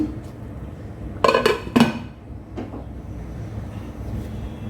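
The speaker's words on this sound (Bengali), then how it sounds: "মিক্স করে নিয়েছি, এবার এটাকে আমি ঢেকে দিচ্ছি।" A lid clatters onto a metal cooking pot holding jute leaves with lentils: two sharp, close metallic clanks close together, then a softer rattle as it settles, over a quiet kitchen background.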